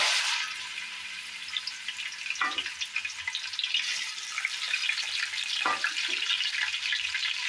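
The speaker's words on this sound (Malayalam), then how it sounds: "ഈ എണ്ണ ചൂടായതിനു ശേഷം നമ്മൾ കഴുകി വൃത്തിയാക്കി വെച്ചിരിക്കുന്ന നമ്മുടെ ചിക്കനെ അതിലേക്ക് ഇടുകയാണ്" Washed chicken pieces frying in hot oil, a close, steady crackling sizzle throughout with a couple of brief clatters of stirring, no voices.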